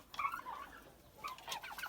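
Farm fowl including bronze turkeys calling in short bursts, a couple of faint gobbling and clucking phrases from a moderate distance in a quiet yard, separated by a brief pause.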